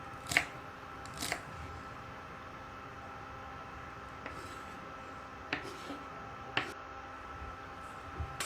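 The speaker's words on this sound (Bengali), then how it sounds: "এবার আমি পেঁয়াজ পাতাটাকে একদম চিকন করে কেটে নিব" A knife finely cutting spring onion leaves makes sparse, sharp, irregular taps on a board, about seven in all, quiet against a soft background hiss.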